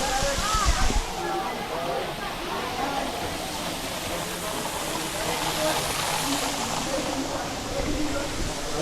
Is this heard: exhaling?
no